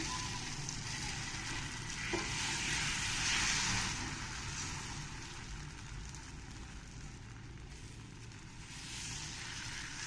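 Moong dal batter sizzles steadily in hot oil on a pan, a continuous close hiss of frying that holds at an even level throughout with no talking.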